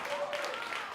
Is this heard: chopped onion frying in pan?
no